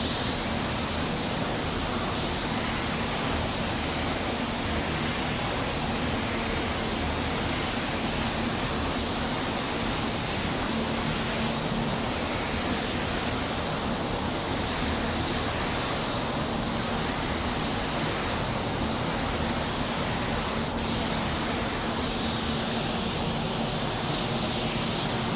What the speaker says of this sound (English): Let's do a coat and a half of pearl, back to back, no time in between.